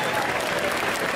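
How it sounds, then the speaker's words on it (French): A brief burst of dense crowd applause at a cosplay contest during an indoor festival, steady and fairly loud for about a second. "On l'applaudit bien fort, s'il vous plaît."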